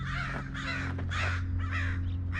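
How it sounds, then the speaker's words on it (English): Crows caw several times in a row, about five harsh, rasping calls at a fairly even pace, heard over a steady low hum. "these crows be hating on me"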